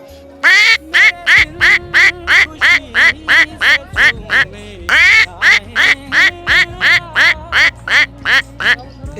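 A man imitates a duck with his voice, giving about twenty loud, rapid nasal quacks in a steady rhythm, close to the listener, with a short pause partway through.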